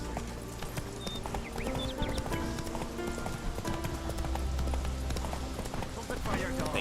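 Horse hooves clip-clopping at a steady walking rhythm in The Witcher 3, with occasional neighs, game ambience and chatter from characters running underneath throughout.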